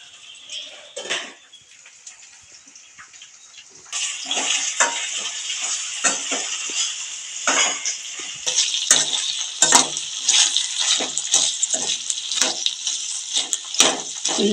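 Village-style ivy gourd curry with onions and green chillies sizzles in a pan, quiet at first and then a steady hiss with clinks of stirring, and no talk.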